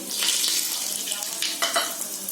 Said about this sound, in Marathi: तेल गरम झालाय, त्याच्यामध्ये हे सर्व खडे मसाले टाकते.